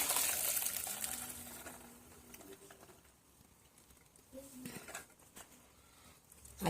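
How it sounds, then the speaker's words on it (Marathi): Water drains and patters from boiled chana dal as it is strained, a continuous splashing stream that tapers off in the middle and swells again in short gushes, with no talking. "आता ही डाळ आपल्याला गाळून घ्यायची"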